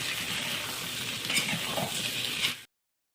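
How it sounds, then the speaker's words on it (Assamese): Goat meat frying in a pan with narasingha leaves, a continuous close sizzle with soft stirring scrapes for under three seconds, then abrupt silence; no one speaks. "এইফালে নৰসিংহ পাত দি এতিয়া ভাজি আছোঁ।"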